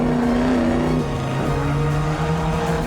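A classic car's engine at the Bernina Gran Turismo race roars close by with a steady, droning note that shifts pitch as the car changes gear, loud and with no voices over it.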